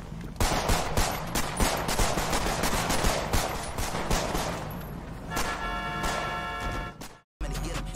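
Sustained automatic gunfire with heavy recoil in GTA roleplay, loud and close, rattling out in rapid bursts for about seven seconds before a brief cut to silence.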